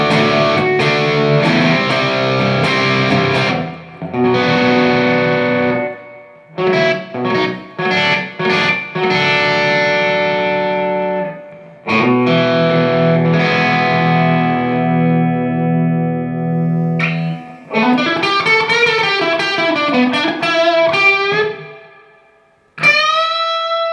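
A handmade Karl Longbottom Fulvia electric guitar, played on the bridge pickup through heavy distortion, rings out in chords and picked phrases with sustained notes, abrupt stops, a wavering bend and a final high note, loud and unaccompanied.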